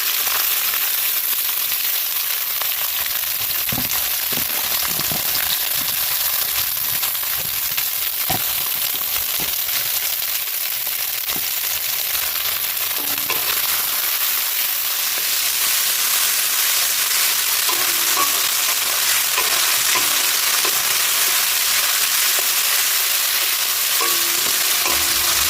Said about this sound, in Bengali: পেঁয়াজ মরিচটা আমার লাল লাল করে ভাজা হয়ে গেছে